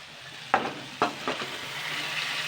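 Washed cauliflower florets dropped into hot masala in a pan, giving three sharp sizzling bursts a moment apart, then a soft steady frying hiss as they are stirred.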